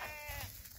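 A long-tailed sheep from a herd grazing in Chhattisgarh gives a single short, wavering bleat, near and moderately loud, with no talking.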